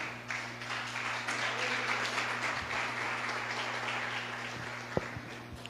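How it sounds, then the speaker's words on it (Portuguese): Congregation clapping in a church service in praise, a continuous dense patter of hands over a steady low electrical hum, moderately distant, with a single sharp knock near the end. "as palmas louvam o nome do Senhor Jesus"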